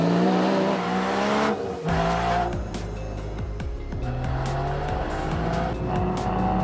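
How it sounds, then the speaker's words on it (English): A Porsche Boxster Spyder sports car engine revs and idles loudly close by, with sharp crackling pops and bangs from the exhaust scattered throughout. "The pops and the bangs from the exhaust are absolutely outrageous."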